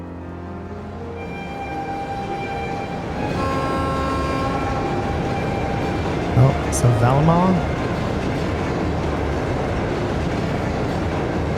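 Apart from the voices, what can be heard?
train running, from a video game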